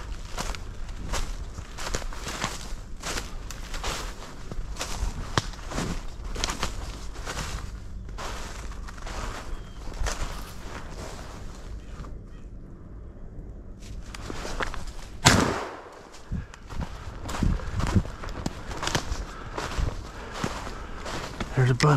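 A hunter walks through brush cover, with steady crunching, rustling footsteps in a regular rhythm, close by, pausing briefly before striding on, and faint voices now and then.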